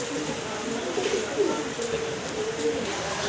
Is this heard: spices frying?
no